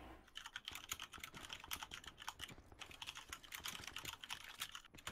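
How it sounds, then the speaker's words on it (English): Rapid, steady clacking on a computer keyboard during an online Blackout game session, a continuous stream of quiet, close keystrokes with no voices over it. "Who the fuck is typing?"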